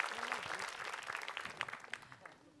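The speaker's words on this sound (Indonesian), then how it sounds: "Tepuk tangan lu dong Bu buat Ustaz Syam" A studio audience at a televised Islamic talk show claps in quiet, fairly brief applause, heard faintly under a speaking voice.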